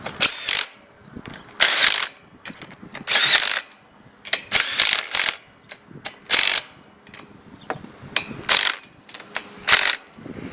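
Screws being driven in on a Valley irrigation pivot gearbox with a ratcheting driver, a loud, close series of rapid clicking ratchet bursts in irregular repeated strokes, with no talk.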